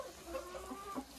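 Domestic laying hens give a few soft clucks, faint and close, in a short burst.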